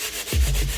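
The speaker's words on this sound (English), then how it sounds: "I let it dry and sanded it again, so the surface was left smooth." Sanding a painted book surface smooth after it has dried: a steady, close abrasive rubbing that swells louder partway through, alone with no voices.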